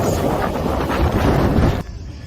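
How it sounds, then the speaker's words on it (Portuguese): Strong gusts of wind buffet the microphone outdoors in Athens, Greece, producing a loud, continuous roaring rumble that drops abruptly near the end as the gust eases. "Agora a rajada de vento tá demais"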